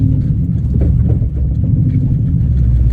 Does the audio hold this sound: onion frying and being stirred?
no